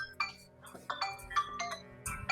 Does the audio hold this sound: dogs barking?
no